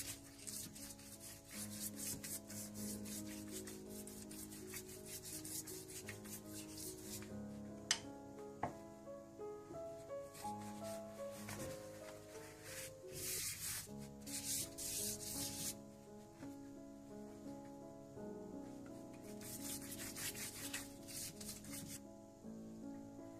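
A pastry brush spreads melted butter over thin baklava phyllo sheets, giving a soft, repeated scratchy rubbing close by. The strokes continue in irregular bursts under gentle background music.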